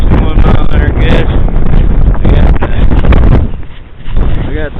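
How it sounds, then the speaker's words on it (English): Strong wind roaring during a snowstorm whiteout in Newkirk, Oklahoma, with gusts buffeting the microphone in loud continuous blasts that briefly ease near the end, with a voice heard faintly through it. "Got it 4 degrees, 26 mile an hour wind, 61 mile an hour gust."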